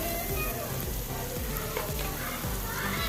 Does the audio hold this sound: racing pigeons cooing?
no